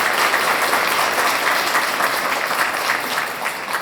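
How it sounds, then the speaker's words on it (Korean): Audience applause at a Korean English academy's vision ceremony, dense steady clapping from a crowd welcoming the head of the academy to the stage, sustained and fairly loud throughout without speech. "박수로 맞아주시기 바랍니다."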